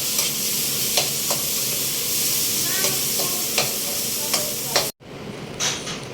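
Ginger going into a sizzling pan of frying bangus (milkfish), a loud steady hiss with occasional stirring scrapes and clicks, then a sudden break and a quieter sizzle.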